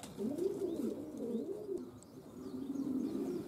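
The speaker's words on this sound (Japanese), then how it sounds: "6時半ごろ遠征に行った鳩が戻ってきました。" Homing pigeons back at their loft after a training flight coo in low, rolling phrases, close and clear, almost without pause against a quiet outdoor background.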